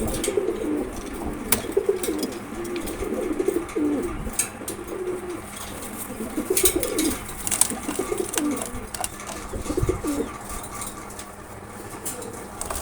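Fancy pigeons, a pair kept in a loft, cooing repeatedly in low throaty rolling phrases close by, with occasional wing flutters and light scuffling amid steady background noise.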